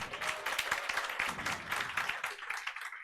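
Applause from a classroom audience honouring test toppers at a coaching-class award ceremony, dense scattered clapping that holds steady for a few seconds before thinning out at the end.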